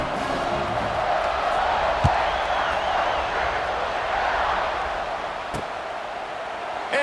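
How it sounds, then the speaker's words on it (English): A football stadium crowd at an Ohio vs Ohio State game buzzes after a touchdown, a steady broad roar of many voices with a sharp thud near the two-second mark. "this crowd is buzzing after that last score"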